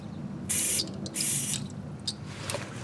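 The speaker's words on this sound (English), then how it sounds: "So you could put one in the middle, a squirt in here in the middle," Kroil penetrating lubricant sprayed onto a control arm bolt and 15mm nut on a 1998-2010 Ford Focus, two short hissing bursts close up, then a few faint clicks and taps, with no voice.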